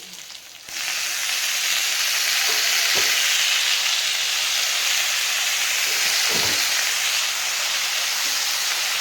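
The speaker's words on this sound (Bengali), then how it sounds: "পেঁয়াজটা ভাজা ভাজা হয়ে গেছে এবার এর মধ্যে কড়াই সবগুলো দিয়ে দেবো" Onions frying in a kadai hiss and sizzle loudly and steadily after a quieter start, with a few brief stirring knocks cutting through the dense, close frying noise.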